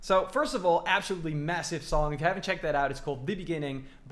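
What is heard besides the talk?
No everyday noises stand out.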